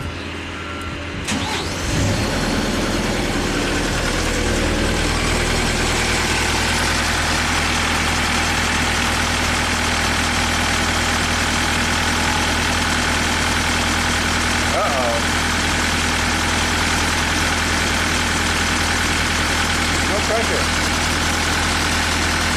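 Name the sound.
Perkins diesel engine idling on a Genie lift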